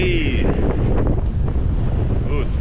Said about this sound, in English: it's probably a little windy.